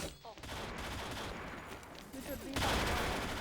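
Bursts of gunfire and explosions from a snowy warehouse map in an online shooter game, rapid and dense, fairly loud over a constant background.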